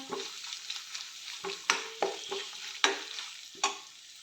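Clam meat fries with ground masala in a pan, a soft sizzle punctuated by about eight crisp scraping strokes of a spoon as it is stirred, close by and without talk.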